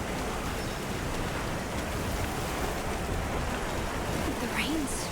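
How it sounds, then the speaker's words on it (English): Heavy rain pours down in the Monster Hunter Wilds video game as a steady, dense wash of noise. It holds an even loudness throughout, with a faint tonal sound briefly rising near the end. "The rain's really coming down."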